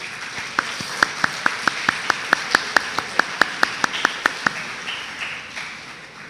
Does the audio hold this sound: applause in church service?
yes